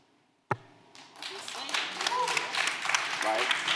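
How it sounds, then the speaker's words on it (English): An audience claps at a civic event, starting after a sharp single knock, then building into sustained applause from many hands that continues to the end, with a voice briefly underneath. "we're clapping for the God honest truth"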